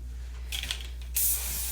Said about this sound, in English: So I'm just gonna spray it